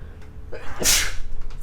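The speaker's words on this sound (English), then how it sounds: "I need to sneeze." A single loud, sharp sneeze bursts out after a brief inhaled buildup, close and clear against a quiet background.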